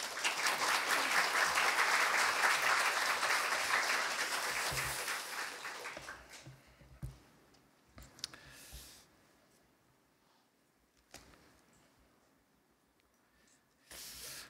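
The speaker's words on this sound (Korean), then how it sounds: "나오실 때 큰 박수로 맞이해 주시기 바랍니다." A church congregation claps loudly to welcome a missionary speaker, with sustained dense applause for about five seconds that then dies away into quiet room noise and a few scattered bumps.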